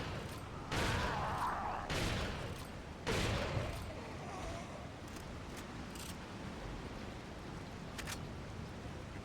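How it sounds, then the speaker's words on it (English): The Striker shotgun in the video game Resident Evil fires three quiet blasts about a second apart, then gives way to a low, hissing background. "I'll keep using the striker."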